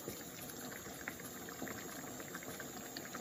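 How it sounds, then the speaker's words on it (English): Salted water heating in a pot toward the boil for a pork and fennel sugo, giving a steady low bubbling and hissing simmer that runs evenly throughout, with no voices over it. "Let it come up to the boil."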